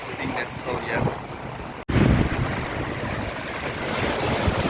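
Floodwater from a Garden Route river flood rushes loudly and continuously as it rips into sand, a dense roar with wind buffeting the microphone and a brief dropout early on.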